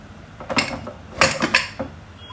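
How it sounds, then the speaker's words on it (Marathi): A pressure cooker lid being worked open, several close metallic clicks, scrapes and creaks in quick succession with a brief hiss-like burst in the middle, moderately loud and unaccompanied by speech. "कुकर उघडायला लागेल"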